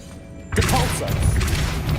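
A Depulso force spell cast in Hogwarts Legacy lets out a sudden loud whooshing blast partway in, then a sustained roaring, crackling burst of magical energy that keeps going to the end.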